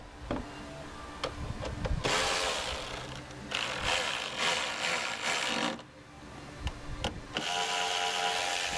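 An electric ratchet tightens 10mm bolts on a Chevrolet Traverse or Buick Enclave during a repair for overheating, giving several close whirring bursts with mechanical clicking and short quiet pauses between them.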